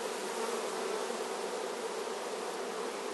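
Honey bees hum steadily around a brood frame with some pollen and honey, a dense, even buzz up close with no voices.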